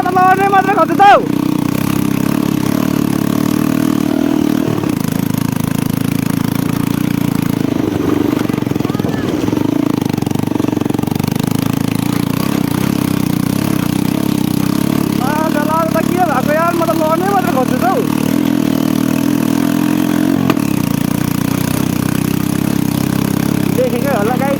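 A motorcycle engine runs in a steady, close drone that holds its pitch throughout, with voices faintly present over the continuous hum.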